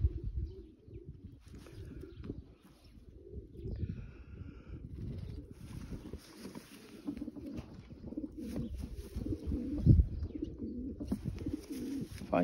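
A racing pigeon of the Janssen line coos in low, throaty, repeated murmurs, close by, with faint chirps and scattered bird sounds around it.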